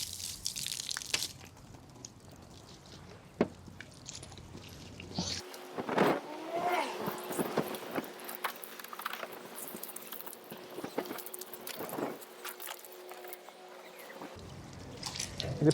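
Pure, filtered water spraying and splashing across a car's surface, a steady hiss with dripping and patter, broken by short bursts of running water.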